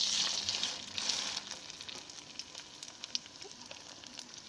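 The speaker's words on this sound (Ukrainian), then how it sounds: "Тепер жаримо." A sandwich fries in a pan with a soft, steady sizzle that is louder for the first second, then settles into a quieter hiss dotted with small crackles.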